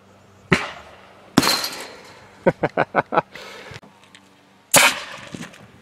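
A homemade potato cannon built like a 25-pound field gun fires outdoors with a sharp, loud boom. A quick run of clacking knocks follows, then a second blast near the end.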